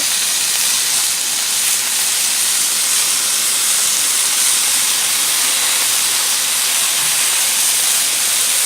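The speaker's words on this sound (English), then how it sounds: "We'll check it, and then we'll turn it, let it sear on the other side." Filet mignon searing on a Blackstone griddle gives off a steady, loud, close sizzling hiss that holds evenly throughout, with no talking.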